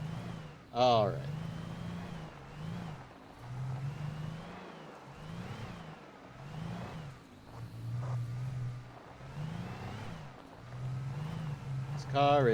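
Car engine in the Alan Wake video game driving over rough roads, a low rumbling drone that rises and dips with bumps, under ongoing talk, with a couple of sharp squealing noises.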